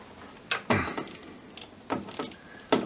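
A ratchet wrench loosens 10mm coil pack studs on a second-generation Audi 4.0T V8 engine, giving several short bursts of close, sharp clicking separated by brief pauses.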